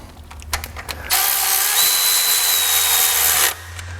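A power tool runs in one steady burst of about two and a half seconds, tightening fasteners on a Honda Civic D-series engine block. It is preceded and followed by faint handling clicks in a quiet workshop.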